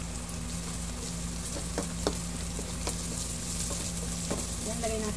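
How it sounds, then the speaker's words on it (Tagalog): Onion and garlic sautéing in a frying pan for adobong kangkong give a steady, close sizzle and crackle, with occasional stirring clicks of a utensil and a few sharper pops near the end. "nagigisa na po tayo ng sibuyas at bawang"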